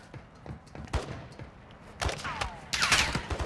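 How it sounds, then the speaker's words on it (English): Video game gunfire on the Al Mazra map crackles in scattered close shots, then thickens into dense bursts in the last second and a half, with no speech over it. "you started shooting"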